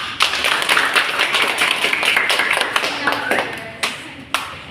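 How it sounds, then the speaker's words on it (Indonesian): A group of elementary school students claps their hands in a classroom simulation lesson, a burst of busy clapping that fades into a few scattered, sharper claps toward the end, close and moderately loud. "Tepuk tangan untuk kita semua"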